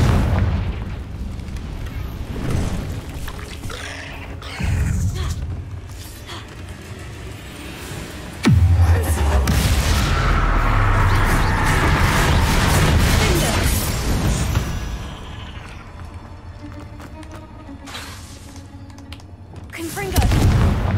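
Repeated Confringo blasting spells detonating in Hogwarts Legacy combat, deep booming explosions bursting at intervals, one especially heavy blast midway, with voices over the fighting.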